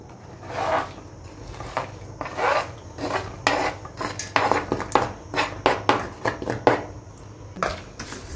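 A spoon scrapes and stirs pulp from raw mango together with chopped jaggery in a pot, repeated close grating and rubbing strokes that speed into a steady rhythm, with no talking.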